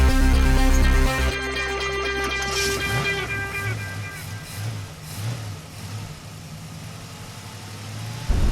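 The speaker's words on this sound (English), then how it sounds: "we go wheeling in the desert." A four-wheel-drive off-road vehicle engine idles and revs at the Plaster City off-highway vehicle area in the Imperial County desert, a steady loud rumble with pulsing throttle swells and some wind noise throughout.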